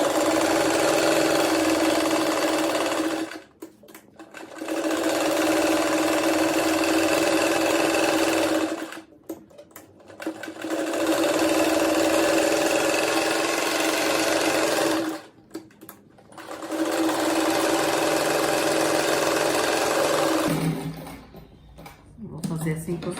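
A sewing machine stitches fabric squares for a patchwork rug in three long, steady whirring runs separated by short pauses. The sound is close and loud, with a brief rattle at the end.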